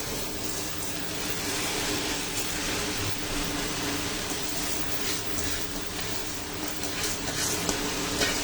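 Rice for a masoor, moong and mashkalai dal bhuna khichuri goes into a hot frying pot and is stirred through, making a dense, continuous sizzle and scraping rustle close by.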